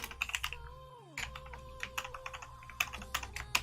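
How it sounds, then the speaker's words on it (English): A computer keyboard clicks with quick, quiet keystrokes in irregular bursts, close to the mic, over a soft tonal background hum. "We'll finish typing it here."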